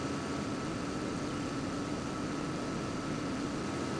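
Big Bud 525 tractor engine idling in Farming Simulator 22, a steady low rumble with a constant droning hum, holding an even level throughout with no talk.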